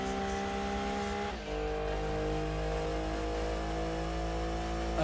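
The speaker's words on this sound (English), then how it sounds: "This car actually sounds pretty cool." A race car's engine hums loudly and evenly during an endurance race in Gran Turismo 2, with one brief dip as it shifts gear before settling back into a steady, high-revving whine.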